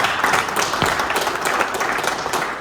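An audience at an Aston Martin DB4 talk bursts into a round of applause, dense clapping from many hands that stays steady, then tapers slightly at the end.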